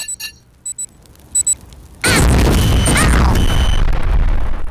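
Explosions in the video game Worms 2 Armageddon: a few short game blips, then a loud, sustained roaring blast of overlapping booms and crackling debris that fills the rest of the clip, with no talk.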